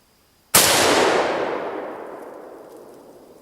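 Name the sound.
Mosin Nagant rifle gunshot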